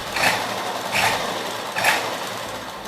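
A sewing machine stitches a half-inch seam on a palazzo pant, with three short bursts of mechanical whirring at roughly even intervals, moderately loud and close, with no talking.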